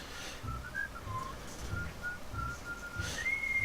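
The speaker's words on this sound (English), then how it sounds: "they whistle whenever there's a clear path to the end" Followers in the video game Godus whistle short, bright tonal notes in a rising and falling sequence, ending on a longer held pitch, over a soft background rumble.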